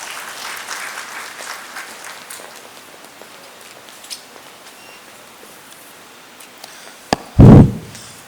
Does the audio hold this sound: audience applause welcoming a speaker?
yes